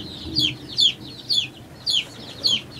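Chickens cluck close by in five evenly spaced, sharp, bright bursts over a quiet, low murmuring background, with no talk.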